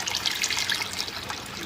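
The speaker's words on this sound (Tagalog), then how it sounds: "Dagdagan natin ng sabaw." Liquid broth poured into a pot of spicy chicken tinola, a steady close trickling, splashing stream running continuously with no pauses.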